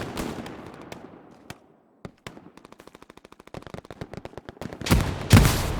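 Battlefield combat in Hell Let Loose: sharp rifle and machine-gun shots crack out in bursts, then a rapid rattling volley, ending with a heavy grenade blast and a second loud explosion near the close.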